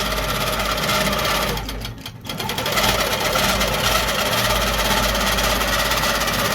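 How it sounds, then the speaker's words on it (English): A longarm quilting machine stitching a quilt runs with a steady, loud mechanical hum and rapid needle rhythm, briefly dipping before resuming its constant drone. "it's time to turn the stitching on our long arm, and then we'll start moving"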